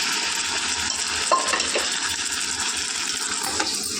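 Gongura and chana dal curry stirred in a pan, a spoon scraping and clinking a few times over a soft, steady sizzle.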